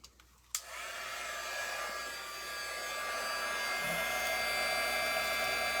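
A heat tool switches on with a sharp click and then blows steadily with a whooshing whine, heating puff paint on embossed cardstock; the hum holds close and even for several seconds.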